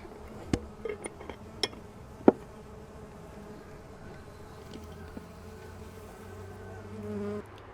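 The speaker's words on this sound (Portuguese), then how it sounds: "Algumas abelhas ainda estão arrevoando em volta do lugar onde a gente fez o procedimento" Soft buzzing of mandaçaia stingless bees flying around their hive, with a few sharp clicks and taps early on and a low hum rising near the end.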